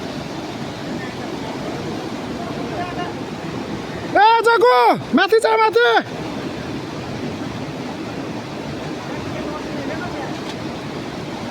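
A river swollen in moments, rushing with a constant broad roar, heard up close. Someone shouts briefly over the flow midway through.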